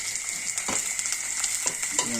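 Onions hit a hot pan with ginger garlic paste and fry in oil, a steady close hiss of sizzling broken by a few brief stirring scrapes and sputters.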